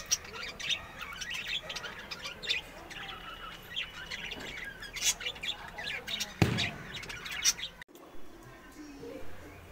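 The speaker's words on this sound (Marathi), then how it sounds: "इकडे आहे ना काही लवबर्ड्स पाळले आहेत माझ्या मावशीनं. त्यांची किलबिलाट असते" Pet lovebirds kept at home chirp and squawk in bright, irregular bursts, some sharp and close, with a little talking in the background.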